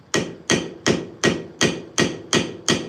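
A hammerhead is let fall under its own weight onto a brass pin on an anvil, giving eight crisp, evenly spaced metallic taps with short ringing decays, close and alone.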